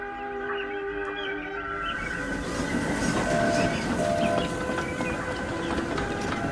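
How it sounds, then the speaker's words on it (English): A steam train pulling a long goods train rumbles steadily along with clacking wheels and faint whistle-like tones, growing slightly louder midway. "He had a long goods train which he was taking to Tidmouth, but he had to wait for Henry to pass"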